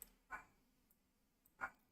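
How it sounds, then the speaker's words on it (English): A dog barks twice in a quiet indoor room, two short separate barks about a second apart, faint and fairly distant, with no talking. "Hold on, my dog, she will not stop."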